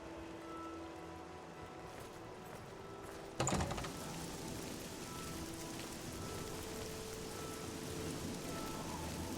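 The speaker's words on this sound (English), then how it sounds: "Look at it, we can see the rain." Steady rain falls outside a window in The Elder Scrolls IV: Oblivion, a soft continuous hiss heard from indoors, broken by one sharp knock or thump partway through before the rain noise resumes, slightly fuller.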